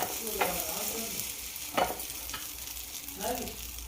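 Egg kebabs made from three eggs fry in a small pan, giving a soft continuous sizzle with a few brief scraping or stirring sounds against the pan.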